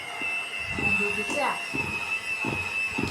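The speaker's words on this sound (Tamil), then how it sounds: "நீ ஆயில் மிக்ஸ் ஆகிற வரைக்கும் பீட் பண்ணு" An electric mixer beating cake batter with oil during a kids' baking class, a steady high whine running throughout, close and loud, with people talking over it.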